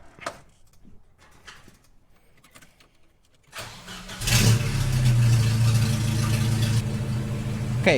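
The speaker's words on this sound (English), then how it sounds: "Okay, car is on." A Volvo 740's engine starts after a few seconds of near silence with faint handling noises, then settles into a loud, steady, close-up running drone.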